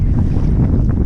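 Strong wind gusts across a lake during kayak fishing from a Hobie kayak, with low rumbling wind buffeting the microphone and a steady, loud blustery roar that never lets up.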